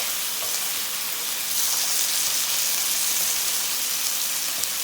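Burgers and onions sizzle steadily in a hot pan, a constant bright crackle of frying fat with no voices over it.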